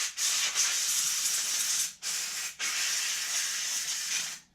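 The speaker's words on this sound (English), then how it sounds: "I keep a duster nearby so I can kind of clean some of this stuff off" Canned air duster blows off a GM headlight switch in a steady close hiss lasting several seconds, broken by two short pauses between bursts.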